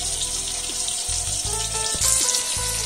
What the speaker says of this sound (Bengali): পেঁয়াজটা হালকা ভাজা হয়ে এসছে।